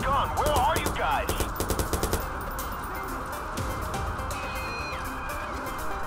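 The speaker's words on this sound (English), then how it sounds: "Someone's firing a gun." Rapid gunfire rattles in the Watch Dogs video game, with loud bursts of shots early on over a busy city background and voices talking.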